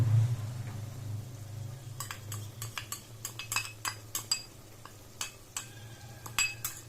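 A spoon stirs village-style chicken sambar in a pot, scraping and clinking against the metal in an irregular run of sharp close-up taps over a low steady simmer, with no talking.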